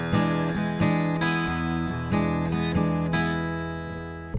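Acoustic blues guitar strums a shuffle rhythm, its uneven long-short strokes giving a loping, swinging pulse, played close and clear with no voices.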